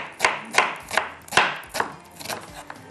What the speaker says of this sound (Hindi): प्याज को स्लाइस में कटिंग करते हैं